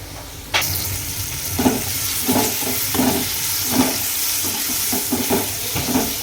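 Tomatoes hitting a hot spiced tadka for mixed dal, starting with a sudden loud burst of sizzling that settles into a steady hiss, and several scraping stirs repeating roughly every half second, close up.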